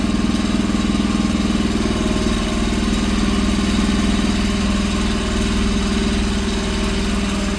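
A 48V DC generator engine idles steadily with a constant mid-pitched drone and hum, close and loud, no voices.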